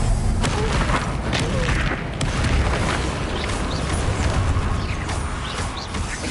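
Fiery Confringo spell blasts in Hogwarts Legacy, a dense run of booming bursts and crackling impacts rolling on without pause, loud and close, with no talk.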